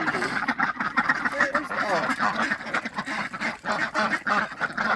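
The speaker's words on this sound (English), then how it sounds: "There's Mr. Toll's ducks right there." Backyard ducks quacking repeatedly at close range, rapid nasal calls in irregular bursts with some overlapping honks from other fowl.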